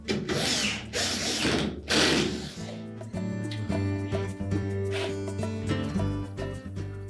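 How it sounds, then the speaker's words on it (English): A power screwdriver drives a single screw into the bottom center of a Whirlpool washer panel, first with loud whirring bursts and then with a rapid ratcheting clatter as the screw seats, close and fairly loud. "We'll begin by putting a single screw in the center at the bottom."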